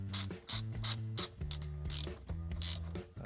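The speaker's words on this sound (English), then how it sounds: "just use the appropriate socket to tighten those down" Ratchet socket tightening screws on a steering wheel press, a close series of crisp clicking ratchet strokes in quick repeated bursts with short pauses between swings.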